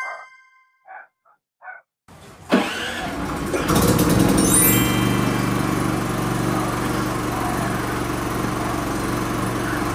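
A Philking PK4200 inverter generator cranks and starts after a few faint beeps, then settles into a steady, loud mechanical hum with a whining engine tone that runs on without a break.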